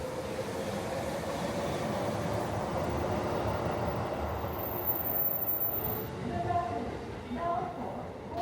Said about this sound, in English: This train is the rapid service.